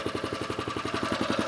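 The engine of a wildfire pump on a mobile attack unit idles close by, a fast, even chugging pulse with a throbbing low rumble that stays steady throughout.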